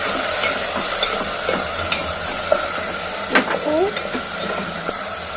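Onion, curry leaves and tomato fry in oil in a pot, a steady close sizzle broken by spoon scrapes and soft clinks, with brief voices in the background.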